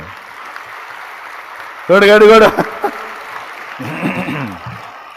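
A church congregation claps steadily through the clip, a continuous rustle of hands beneath a voice that speaks in bursts.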